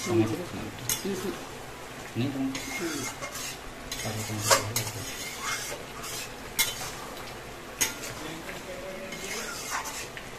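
Egg and soybean curry stirred in a pan, a metal spoon scraping and clinking against the pan over soft sizzling, with a person talking throughout.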